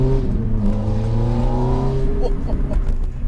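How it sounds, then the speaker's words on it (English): A Ferrari F430 F1 with its exhaust valves open revs, a deep low engine note rising in pitch, then dropping away, loud and close from inside the car. "listen when the exhaust valves open"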